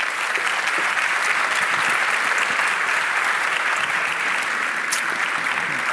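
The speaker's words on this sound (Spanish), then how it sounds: "Un aplauso, por favor." An audience at an Argentine fintech forum applauds, giving sustained, even clapping that stays at one level for about six seconds, heard from a middle distance in a large room.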